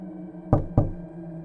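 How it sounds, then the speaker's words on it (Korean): Two sharp knocks on a door land in quick succession, close and loud, over a quiet humming background with no one speaking. "노크를 하자 문을 열어주는데"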